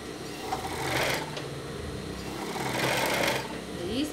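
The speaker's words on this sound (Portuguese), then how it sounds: "E agora nós vamos pra máquina tornar a fechar o outro lado da calcinha também" A sewing machine stitches bias binding onto cotton panties in close, buzzing bursts of about a second each, with pauses between, while someone talks over it.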